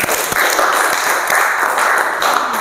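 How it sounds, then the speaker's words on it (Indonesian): Steady applause from an audience at a youth ambassador selection event in Sumenep, sustained and fairly loud across the whole moment with no clear individual claps standing out. "Tepuk tangan dulu."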